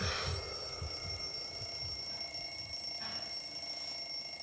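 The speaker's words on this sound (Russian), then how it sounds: "я понял, что виной всему будильник" An alarm clock rings inside the visual novel game Everlasting Summer, a continuous shrill metallic ringing that holds steady and loud for the whole stretch with no voices.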